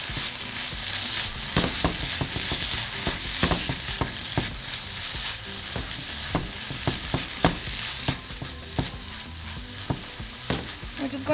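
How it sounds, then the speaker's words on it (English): Onion and minced garlic fry in a pan with a steady sizzle, and a spoon stirs them in scattered scrapes and knocks that grow more frequent toward the end, with no voices. "now we're going to cook our onion and minced garlic. So just move it all around"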